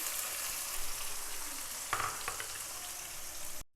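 Chopped onion frying in ghee in a kadhai, a steady bright sizzle with a brief burst of crackling partway through, close and alone with no voices.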